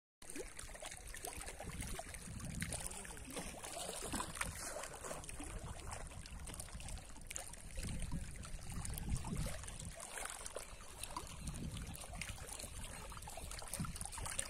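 Gentle lapping water at Pawna Lake in the dim light before sunrise, a steady low wash with soft trickles and occasional boat-like sloshes, continuous and moderately close with no talk.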